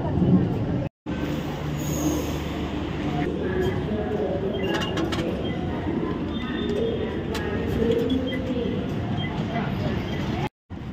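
A Bengaluru metro train rumbles along steadily between Majestic, Mantri Square and Yeshwanthpur, with rattling and faint wheel squeals, muffled voices murmuring beneath the constant roar.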